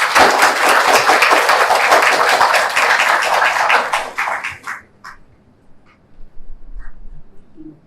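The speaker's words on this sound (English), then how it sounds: "encourage and appreciate all who have contributed towards these two projects through a big round of" A seminar hall audience breaks into loud, dense applause that holds steady for about four seconds, then thins to a few scattered claps and fades into quiet.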